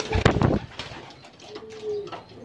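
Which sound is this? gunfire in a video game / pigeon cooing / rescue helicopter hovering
pigeon cooing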